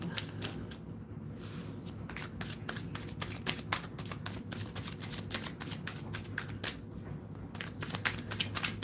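Tarot cards being shuffled close up: a quick run of crisp riffling flicks and soft taps, steady and quiet, with no talking.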